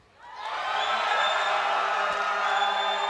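A crowd at the IPL5 esports event breaks into sustained cheering for Team Fear, a broad roar of voices and whoops that swells quickly and holds steady at full volume.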